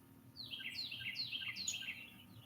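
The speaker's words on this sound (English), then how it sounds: "I'm hoping the birds will play in the background" Birds sing in a front yard in a hollow, a faint, high, repeated series of downward-sweeping chirps in quick succession, heard alone over quiet background hum.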